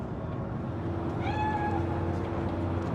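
A single cat meows in the Cyberpunk 2077 game's Night City, one rising and falling call about a second long over a steady low ambient hum.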